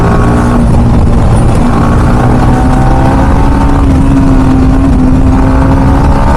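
Motorcycle engine pulling hard in third gear on a long highway ride, a loud steady drone with a slowly rising pitch mixed with heavy wind rush.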